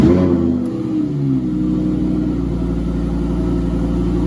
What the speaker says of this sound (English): Foot on the brake and the vehicle will start.